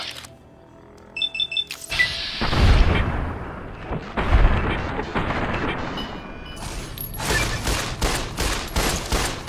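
Gunfire in the modded PC game Fallout New Vegas, several loud heavy shots and a rapid volley ringing out over a game soundscape, with no talking.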